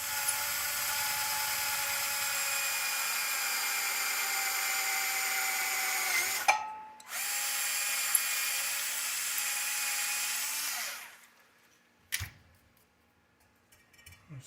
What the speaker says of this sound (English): clean that fresh drill bit just flies through there